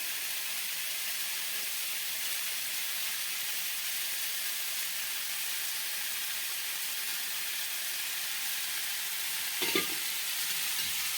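Apple snail curry with mustard paste fries in a pan with a steady, soft sizzle, close and continuous, with a single clink of a utensil near the end.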